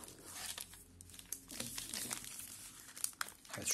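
A Milka hazelnut caramel chocolate package is torn open, its wrapper crinkling and crumpling in close, steady bursts over about four seconds, with sharper tearing rasps near the end.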